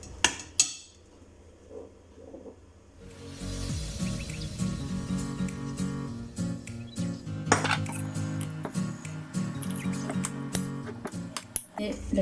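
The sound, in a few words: mixing sugar into mascarpone in a bowl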